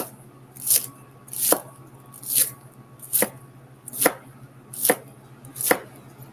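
A dull knife chops vegetables on a board in seven evenly spaced, sharp knocks, each a crisp close thud with a steady low hum beneath, no one speaking.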